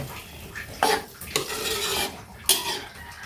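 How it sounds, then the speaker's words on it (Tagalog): Pinakbet vegetables are stirred in a pot, a few distinct clanks and scrapes of a utensil against the metal over a faint background simmer, close and without talk. "Kaya haluin lang natin guys."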